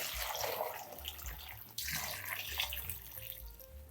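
Water pours from a quart container into a pot full of bone broth ingredients, a close, splashing, gurgling stream with a brief break midway, heard alone.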